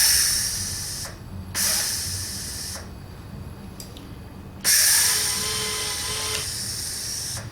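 A wire-feed welder works on an F100 tailgate repair, its loud steady hiss and crackle running in several bursts separated by brief pauses, close up with no talk.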